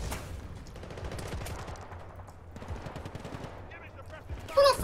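Light machine gun fire in Battlefield Bad Company 2: dense, continuous bursts of rapid gunshots that blend into a steady roar, loud and close, with brief talk near the end.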